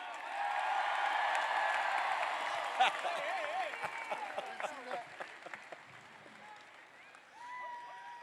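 Crowd at a Tennessee baseball national championship celebration applauding and cheering, a broad wash of clapping that gradually thins, with scattered whoops and a voice speaking toward the end.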